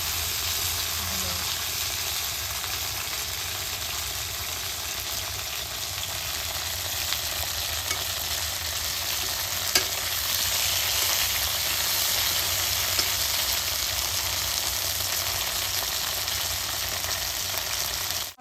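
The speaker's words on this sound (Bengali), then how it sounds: "খালি তেল দিয়ে অল্প হালকা করে ভাজে নেব।" Okra frying lightly in oil for a yogurt okra dish, giving a loud, steady, close sizzle that holds unbroken and even throughout, with only a faint stir or two and no talk.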